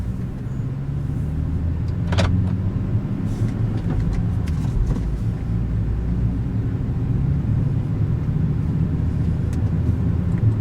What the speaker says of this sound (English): Definitely a very mellow mid-tone note through the exhaust that you can hear as this goes.